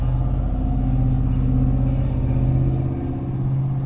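Steady low idle rumble from the Huayee SHY10 mini excavator's small engine exhaust, close and continuous with a slight dip near the end, no talking over it.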